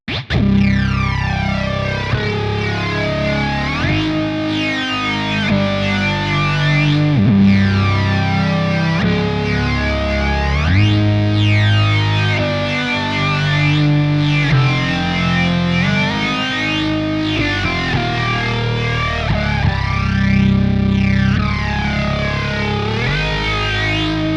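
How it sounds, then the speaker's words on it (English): Heavily distorted guitar tone run pre-effects through the amp section of the Archetype Rabea X plugin, a dense, loud, continuous wall of sweeping harmonics and arpeggiated notes with no talking. "we can go through the amps again. So this is going to kind of distort it quite a bit"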